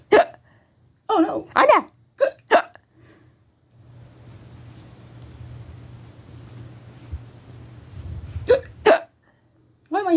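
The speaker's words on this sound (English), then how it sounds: "Why am I hiccuping?" An Elmo toy hiccups in bursts at the start and again near the end, with a long quiet stretch of low hum between; a person speaks briefly in between.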